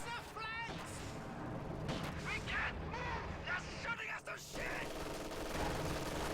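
A captured MG-42 machine gun rattles in Company of Heroes, bursts of rapid fire mixed with distant battlefield booms, heard under a commentator's voice.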